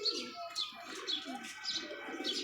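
A domestic pigeon kept at a house coos in low, repeated, throaty pulses close by, with brighter chirping bird calls layered above, and no voices.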